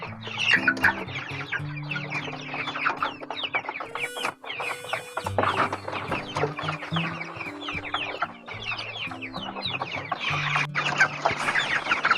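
Chickens cluck busily while being fed, a dense, continuous flock chatter close by with no talk over it.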